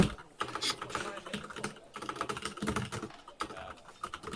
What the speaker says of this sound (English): keyboard noises